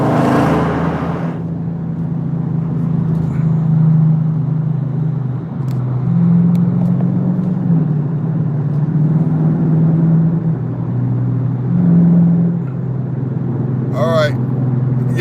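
A powerful car engine rumbles loud and close, holding a heavy, steady low growl with slight swells as it accelerates over about fifteen seconds.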